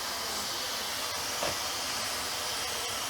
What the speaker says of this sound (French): Je vais tourner aussi pour que la vapeur puisse aller de l'autre côté.